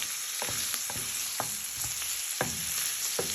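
Peppers hiss and sizzle steadily in a pan alongside fried onion, garlic and chorizo, with sharp spoon-stirring clatters and scrapes breaking through the constant fry.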